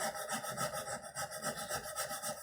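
Hand saw cutting a dovetail joint in wood: steady back-and-forth rasping strokes at an even rhythm, close and fairly quiet, without any talk.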